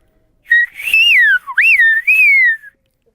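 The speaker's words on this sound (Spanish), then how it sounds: "me enseñaron a silbiar ven para abajo Juanillo esta noche" A loud, clear human whistle glides up and down in pitch across several phrases, modulated like speech, in the Canary Island whistled language Silbo, alone with no talking.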